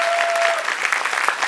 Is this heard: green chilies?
no